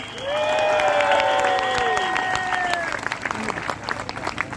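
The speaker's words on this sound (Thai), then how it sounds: "ปรบมือให้กรรมการหน่อย" Large crowd of union members applauding the union committee, sustained clapping mixed with whoops and cheering voices that rise at the start, then thin into scattered claps.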